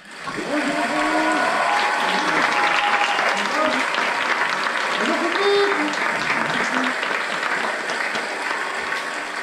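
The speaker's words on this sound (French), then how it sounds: "Je vous demande d'applaudir comme il se doit." Studio audience applauding for a guest filmmaker on a French talk show, a dense steady wash of clapping held at full level for about nine seconds, with music or voices faintly running beneath it.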